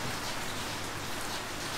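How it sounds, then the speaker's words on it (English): Rain starting to come down hard on a dairy farm during milking, a dense continuous hiss of drops across the whole short stretch, steady and fairly loud with no voices. "that rain's really starting to come in now."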